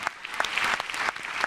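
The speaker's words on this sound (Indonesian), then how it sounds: "Sekali lagi tepuk tangan untuk tim barongsai Kong Ha Hong asal Jakarta" Applause from an audience for a Jakarta barongsai lion dance team, a dense steady patter of many hands clapping with no voices over it.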